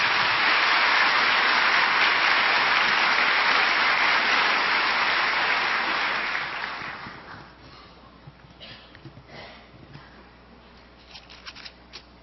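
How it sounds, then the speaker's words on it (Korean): A church congregation applauds loudly and steadily to welcome the pastor, the dense clapping lasting several seconds before fading quickly into a quiet room with scattered small sounds. "우리 목사님 큰 박수로 환영하며 말씀드리겠습니다."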